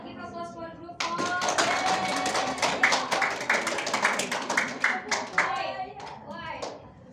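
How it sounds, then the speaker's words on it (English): Students in a micro-teaching class clap for a group, a burst of close, fairly dense hand claps starting abruptly and continuing steadily before thinning out, with children's voices faintly underneath. "Give applause for group 4."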